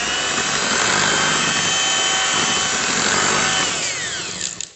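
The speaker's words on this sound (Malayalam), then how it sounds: "അല്ലെങ്കിൽ ബീറ്റർ ഉപയോഗിച്ചാണെങ്കിൽ കറക്റ്റ് 2 സെക്കൻഡോടോ ബീറ്റ് ചെയ്തേക്കാവുള്ളൂ." An electric beater whirs loudly through mango cake batter, a continuous motor whine that runs steadily and then winds down and stops near the end, with no talking.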